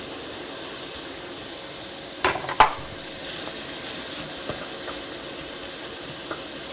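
Chopped onion cooks in a pan alongside sausage, giving a steady moderate sizzle with a couple of sharp stirring clatters early on and small scrapes scattered through, no voices.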